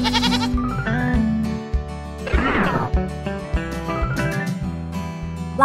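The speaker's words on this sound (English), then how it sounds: "Goat." Goat bleating in a children's farm cartoon, a short wavering animal call set over bright, steady background music.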